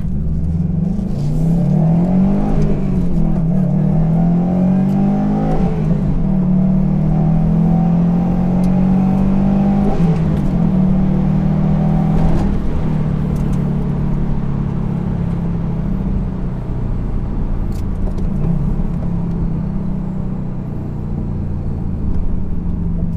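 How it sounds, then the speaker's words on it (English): A 2018 Subaru WRX STI boxer engine gives off a deep, steady exhaust rumble, with several rises and falls in pitch as it revs and settles, loud and close throughout with no talking. "Loud exhaust, I mean, it sounds amazing,"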